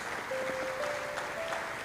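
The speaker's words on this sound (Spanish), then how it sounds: "Le damos un aplauso al Señor, hermano" A church congregation claps together in a steady wash of applause, moderately loud and sustained. A faint sustained tone drifts beneath the clapping.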